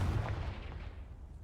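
A Confringo blasting spell explodes in Hogwarts Legacy, a single heavy boom that quickly fades away over about a second, with no talking.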